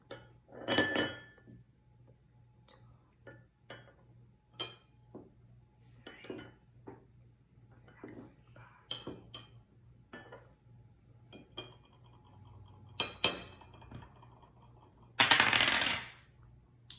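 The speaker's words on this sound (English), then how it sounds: "And they're going to move 3 rocks." Small rocks moved one at a time in a children's counting activity, giving sparse, close clinks and taps with quiet gaps and one longer rattling scrape near the end, no talking.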